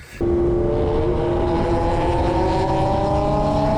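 A Honda Civic drives on a race track, its engine a steady loud drone that rises slowly in pitch as it accelerates, heard close with no talk.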